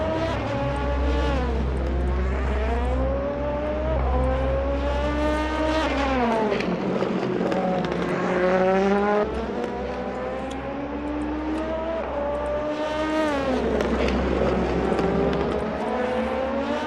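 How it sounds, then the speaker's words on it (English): Race cars head out onto the Mandalika circuit for a 200-minute endurance race, their loud engines revving up and down in repeated rising and falling sweeps as several cars pass close by. "we're now seeing a flurry of cars now absolutely making their way onto the racetrack"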